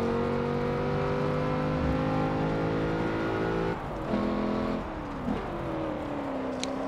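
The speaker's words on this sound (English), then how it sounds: "This is the hot lap for the Land Rover Range Rover Supercharged." Land Rover Range Rover Supercharged on a hot lap in Forza Motorsport 7, its engine droning steadily under load with a sustained engine tone, shifting pitch as it lifts and accelerates again.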